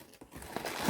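Packaging of an Amewi RC car remote control being unwrapped, a second of close crinkling and rustling plastic with a brief tearing edge.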